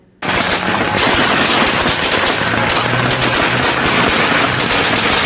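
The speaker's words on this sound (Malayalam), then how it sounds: "വന്നപ്പോൾ തന്നെ ഞാൻ പോയി കണ്ടത് പടക്കം പൊട്ടണതാണ്." Firecrackers burst nonstop at the Edappally church feast in Kerala, a loud, dense barrage of rapid cracks and pops like machine-gun fire that runs without a break from start to end, close and overpowering.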